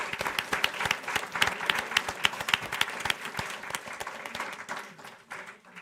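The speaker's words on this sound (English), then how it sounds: "So let's give all the candidates a round of applause." An audience at a Traverse City Area Public Schools board of education candidate forum applauds the candidates with steady, dense clapping that fills the whole stretch and thins slightly toward the end.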